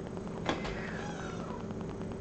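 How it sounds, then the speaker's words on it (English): A single faint, drawn-out meow from a foster kitten, low in level beneath a steady background hiss. "That was Wesley meowing"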